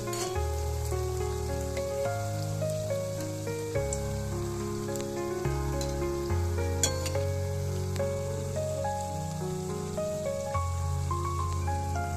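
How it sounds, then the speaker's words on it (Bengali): Pithas frying in white oil, a steady crackling sizzle that runs throughout beneath louder background music. "পিঠেগুলো আমি কিছুক্ষণ ভাজা করে নিয়েছি"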